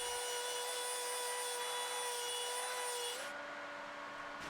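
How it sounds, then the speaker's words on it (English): Belt sander running an 80 grit belt over a glued beech and mahogany herringbone tabletop, a loud steady whine with a constant motor tone that dips slightly in pitch near the end, close and alone. "I used my belt sander with an 80 grit belt to clean it up."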